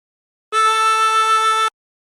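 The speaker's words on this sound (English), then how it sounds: "breathe in through 3 and bend the note to produce A" A single sustained draw note on the third hole of a harmonica, bent down to A, held steady for just over a second with a clean start and stop, played alone.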